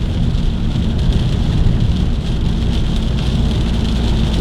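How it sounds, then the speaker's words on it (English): Steady rain falls outdoors over a residential neighborhood, a dense, continuous hiss and patter that stays loud and even throughout, with no voices. "And now we got the rain."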